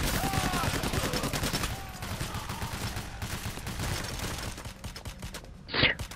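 Rapid bursts of automatic gunfire in the video game Payday: The Heist crackle densely, easing off midway, with scattered shots continuing and a brief sharp burst near the end.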